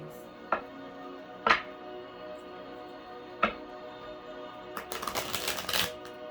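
Brief riffling bursts of cards being shuffled, a few separate snaps followed by a longer flurry near the end, close and fairly quiet.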